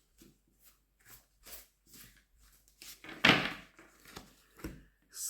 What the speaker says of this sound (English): As always, I'm going to start with the white deck. I'm going to shuffle.